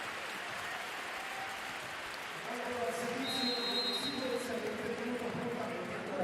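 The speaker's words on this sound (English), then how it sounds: "as the crowd cheers on." Stadium crowd cheering and applauding at a women's volleyball match between Savino Del Bene Scandicci and VakifBank Istanbul, a dense roar that swells louder midway, with a commentator speaking over it.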